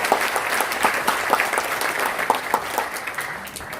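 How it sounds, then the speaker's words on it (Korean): A crowd applauds at a Liberty Korea Party book-launch concert, giving steady, fairly loud clapping with distinct sharp claps over a continuous wash of hands for several seconds. "큰 박수 부탁드리겠습니다"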